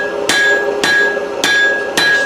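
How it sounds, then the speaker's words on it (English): Blacksmith hammer blows on hot steel while forging a round punch, four loud ringing strikes at a steady, unhurried rhythm, each leaving a bright metallic ring between blows. "bring my hammer blows"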